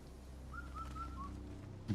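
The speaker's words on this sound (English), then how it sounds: "And you can already sort of hear the hint birds indicating where you need to go." Hint birds in a video game give a short, faint, whistle-like call of four soft notes over a low background hum, with no speech.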